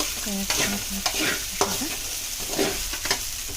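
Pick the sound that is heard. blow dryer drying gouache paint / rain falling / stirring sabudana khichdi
stirring sabudana khichdi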